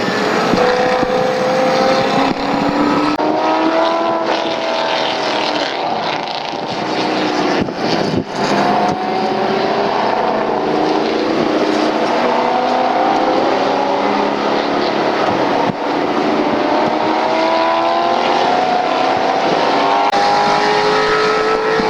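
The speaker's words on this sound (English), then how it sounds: "Yeah, John's car is nice and loud." A Porsche 911 and a BMW E30 race on the VIR circuit, heard from inside a car: a loud, steady engine drone with rising and falling revs and gear changes, continuous and close.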